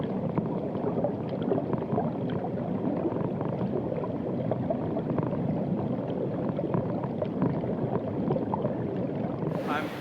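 Water gurgles and churns in a river around buried drums, a steady, dense rush that runs unbroken the whole time at close range, low and full-bodied with no voices.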